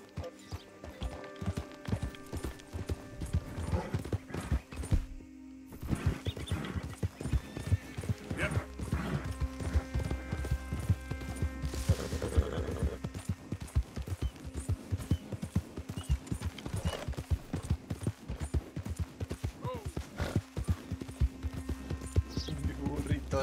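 Hooves clip-clop steadily from a horse in the video game Red Dead Redemption 2, a brisk continuous trot with some louder thumps, while someone talks over it.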